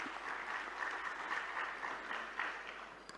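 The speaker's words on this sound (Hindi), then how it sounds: "जोरदार ताली" Hall audience at a Brahma Kumaris talk on social values breaks into sustained applause, a soft, even patter of many hands continuing for a few seconds at moderate distance.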